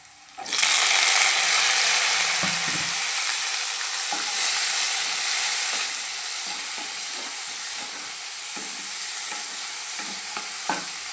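Tomatoes tipped into a hot frying pan while drying meat for a Kerala-style dish, a loud steady sizzle with scraping stir strokes and light clinks throughout, no talking.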